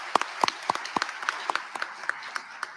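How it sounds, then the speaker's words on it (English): A few people clap sparsely and unevenly at a national elections debate, distinct single hand claps spaced out over under three seconds, fairly close and quiet. "Give them a round of applause,"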